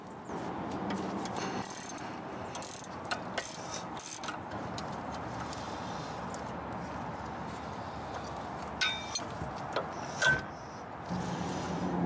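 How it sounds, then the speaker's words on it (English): A socket and wrench work loose the sway bar link bolts on a Jaguar XJ6, giving a steady close run of metallic ratcheting and mechanical clatter with a few sharper knocks near the end. "Use an 18mm socket and a 16mm wrench to loosen the sway bar length bolts."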